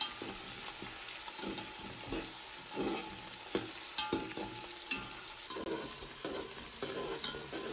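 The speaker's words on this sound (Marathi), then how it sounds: "लसूण लालसर होईपर्यंत परतून घ्यायचा।" Crushed garlic and whole spices frying in hot oil in a pan, a soft steady sizzle broken by the clack and scrape of a spoon stirring against the pot, close and fairly quiet.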